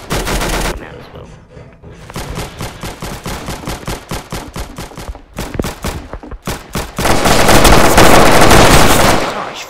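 Rapid gunfire in the Roblox video game, a dense run of sharp repeated shots that pauses briefly, then resumes and swells into a loud sustained burst near the end; no talking.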